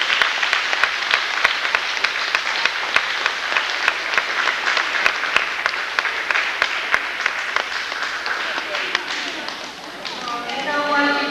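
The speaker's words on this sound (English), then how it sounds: "Please give them a round of applause." Applause for fifth grade students at a 1992 school awards ceremony, a loud sustained patter of clapping hands with sharp individual claps standing out, ending with a voice speaking.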